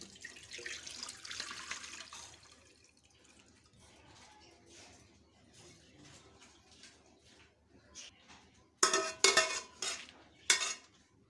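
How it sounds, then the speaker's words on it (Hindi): Beef yakhni broth strained through a sieve in a kitchen, soft trickling and pouring liquid with light metal clinks, then a few louder sharp clatters and splashes near the end. "जो इसका पानी बचा है यखनी इसकी, तो इसको हम छान लेंगे ऐसे छलनी में।"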